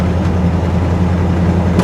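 An old Jeep SUV engine runs with a steady, smooth low drone, loud and close throughout, with no talking over it.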